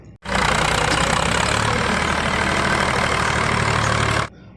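A tractor engine idles steadily and loudly, chugging continuously with a low rumbling knock, running alone without pause for a few seconds.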